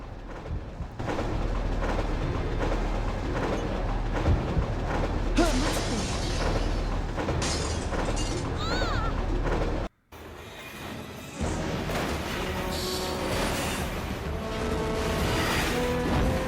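Loud crashing and rumbling from a train wreck in the video game Resident Evil 3: Nemesis, with booming impacts, grinding metal and debris, a brief dropout partway through, then continued heavy rumble.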